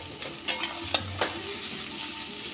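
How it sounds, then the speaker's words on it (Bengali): Chopped onions frying in ghee give a soft steady sizzle with a few sharper scraping stirs and clacks, close up and fairly quiet. "যেহেতু এটা ঘিয়ে রান্না, একটু ঘিটা বেশি দিতে হবে। ঘি দেওয়া হয়ে গেছে। এবার এখানে কেটে রাখা 3টে পেঁয়াজ দিয়ে দিচ্ছি।"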